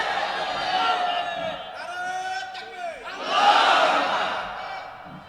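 A large crowd at an outdoor Islamic sermon roars a takbir in unison, a sustained loud chant swelling, dipping, then rising again, with many voices blending together.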